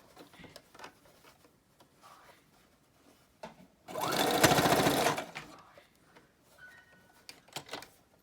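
A sewing machine stitches along a fabric edge in one close, steady burst of rapid mechanical whirring lasting about a second, with quiet talk and handling noises before and after.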